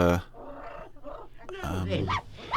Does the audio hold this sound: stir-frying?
no